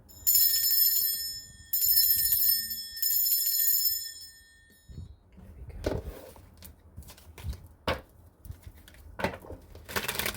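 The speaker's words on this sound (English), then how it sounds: "I will be ringing this bell. This is just to cleanse the space around us." A bell is rung three times in succession, each bright metallic chime sustaining and fading before the next, followed by quieter handling sounds and soft knocks.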